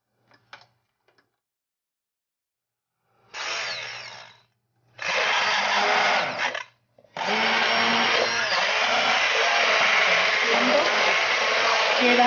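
An immersion stick blender purees whole carrots into pot roast sauce in bursts: a short whir, then longer loud grinding runs with brief pauses between them.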